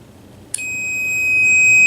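Digital multimeter in continuity mode emitting a loud, steady electronic beep that begins abruptly after a brief quiet moment and holds unbroken to the end as a switch is tested.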